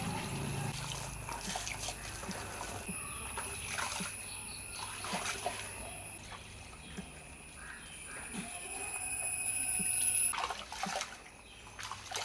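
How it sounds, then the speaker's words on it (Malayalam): Raw rice being washed by hand in a vessel of water outdoors in the sun, with continuous soft sloshing, trickling and splashing up close, a crow cawing in the background and a brief voice. "അപ്പം ഞാൻ പച്ചരി കഴുകി എടുക്കുകയാണ്."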